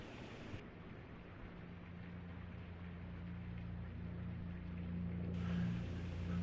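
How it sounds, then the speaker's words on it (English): A storm in the video game Blue Prince, with steady rain hiss and a low rumbling undertone of thunder that swells gradually, faint and continuous with no talk over it. "oh, I hear that storm. That storm is coming."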